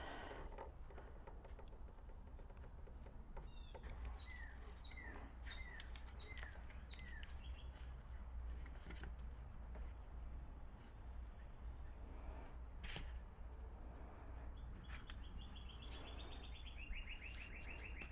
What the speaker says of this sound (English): I love the birds in the background. They're just so happy.